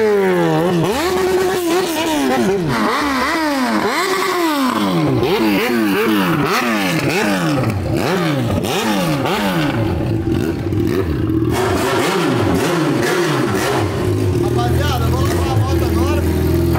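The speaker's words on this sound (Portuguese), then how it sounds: "Deixa eu ver se a moto pega com uma frente aí." A Yamaha XJ6 motorcycle engine, with faults, being started and revved repeatedly, rising and falling throttle blips close by with clattering mechanical noise, settling toward a steadier idle near the end.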